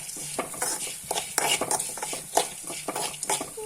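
A spoon scrapes roasted spices from a pan into a mixer jar while a Mangalorean chicken gassi is being made. Repeated sharp metallic scrapes and taps come at an uneven rhythm, close and moderately loud, with no talk.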